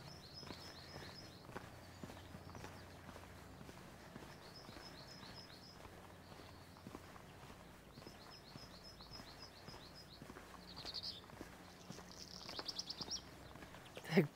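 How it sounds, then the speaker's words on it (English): Repeated bursts of high, rapid bird chirping come in short trills over quiet footsteps in Mürren, a Swiss mountain village, moderately faint, with a louder scuffle at the end. "The birds are chirping like crazy."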